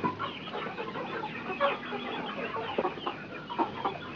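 Young chickens and a cockerel being sorted for harvest cluck and chatter nearby in a busy, continuous jumble of short calls.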